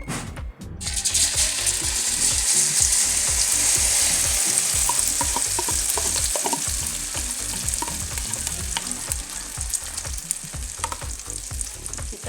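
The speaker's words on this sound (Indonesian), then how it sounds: "Kita goreng di minyak panas ya." Food fries steadily in hot oil, a dense, loud sizzle that crackles and spits continuously throughout, with occasional scraping clicks of stirring and no voices.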